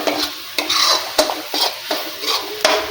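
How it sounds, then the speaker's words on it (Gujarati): Onion gravy sautéing in a pan, stirred in regular strokes roughly every half second, each scrape rising over a soft sizzle, close up with no voices. "આપણે ડુંગળીને 2 થી 3 મિનિટ સાંતળી લઈશું"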